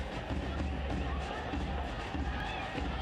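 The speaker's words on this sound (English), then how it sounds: "it's been another great Knoxville crowd here, hoping to get the boys in blue over the line here" Steady, dense crowd noise from a packed stadium at a One Knoxville football match against FC Naples, a continuous roar and murmur of supporters filling the background.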